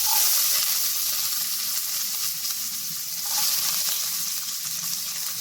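Garlic, ginger and chopped capsicum fry in a hot wok, a bright steady sizzle and hiss close up, with brief stirring scrapes and no talking.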